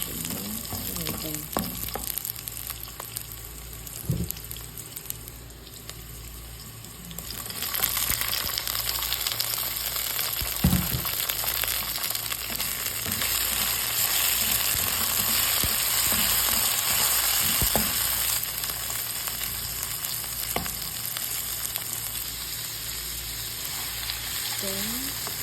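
Tomato sautéed in a pan for a Filipino watermelon dish sizzles steadily, the hiss jumping louder partway through and holding, with occasional utensil knocks and no voices.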